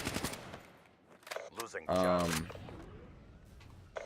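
KN assault rifle fitted with a grip firing in Black Ops 3, a short rapid burst of automatic gunfire mixed with voice and game noise, only moderately loud.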